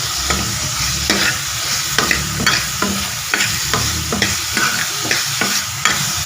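Ridge gourd and onion stir-frying in a spiced tempering for North Karnataka style chutney, with steady scraping strokes of a spoon against the pan repeating every second or so over a continuous close sizzle.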